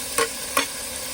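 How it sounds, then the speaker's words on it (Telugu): Tomatoes and green chillies frying in a pan aboard a bus, stirred with two quick scraping strokes over a steady, soft sizzle. "తిప్పు, ఇంకా తిప్పు."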